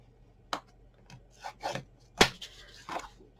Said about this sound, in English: I want to start with scoring that one in and give it a good burnish